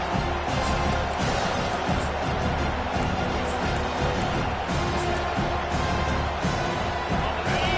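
Steady, dense stadium crowd roar in the Madden 25 football video game fills the whole stretch, a broad wash of noise with faint cheering swells and no clear pauses.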